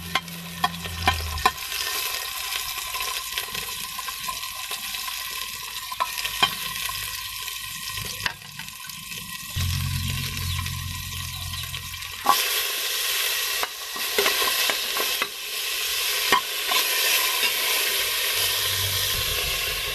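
Ingredients sauté in a little oil in a pan for Filipino tuna sinigang, with a continuous loud sizzle and hiss, occasional stirring clatter and a brief low murmur of background noise.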